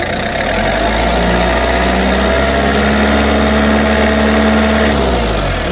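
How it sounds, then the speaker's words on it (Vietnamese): A Japanese forklift engine revs up loudly, its pitch climbing and holding high for several seconds before dropping back toward idle. "Mọi người nghe tiếng khi mình ga lên nhá."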